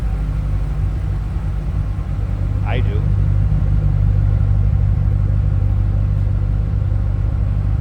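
A supercharged 2006 Ford Mustang Saleen S281 coupe idles with a steady low rumble, close and continuous, while someone speaks briefly over the engine.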